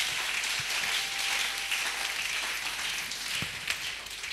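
Congregation at a Christian church service applauding and acclaiming the Lord, a steady wash of many hands clapping at moderate distance, filling the room without pause and without voices over it.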